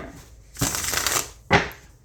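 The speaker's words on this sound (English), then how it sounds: "Cardstock Crystal Unicorn is more fun to shuffle" Cardstock Crystal Unicorn tarot cards riffle in two quick shuffles, a longer papery burst followed by a short, sharp second pass, close and clear with no voices.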